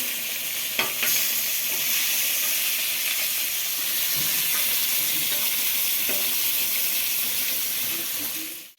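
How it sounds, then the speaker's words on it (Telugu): Fish pieces fry in hot oil with a steady, loud sizzle and hiss, while a few faint scraping knocks come from a spatula turning them in the pan. "మళ్ళీ వేగిన తర్వాత ముక్కల్ని ఇలాగా అట్లకాడ పెట్టి తిప్పుకుంటూ ఉండాలి."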